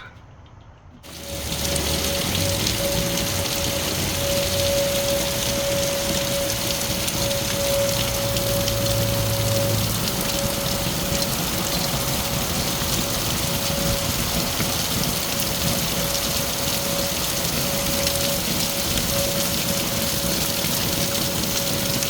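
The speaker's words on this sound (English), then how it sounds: "it's raining again." Steady heavy rain pours down close by on an RV during a storm with hail, a dense continuous hiss that begins abruptly and keeps going without letup.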